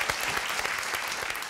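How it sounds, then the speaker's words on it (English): An audience at a youth music virtuoso competition semifinal claps in a short burst of dense, steady applause. "You deserve more applause, but this is all we have."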